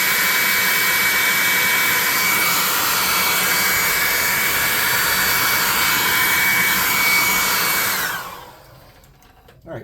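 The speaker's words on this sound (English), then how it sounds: "let's hit him with the hairdryer" A hairdryer blows with a loud, steady high-pitched whoosh for several seconds, then switches off and winds down into near silence.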